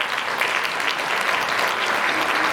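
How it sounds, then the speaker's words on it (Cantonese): Guests at a wedding celebration applaud the bride's mother and the groom's sister, a dense, steady burst of clapping from a sizeable indoor crowd that stays loud throughout. "同樣俾啲掌聲佢哋"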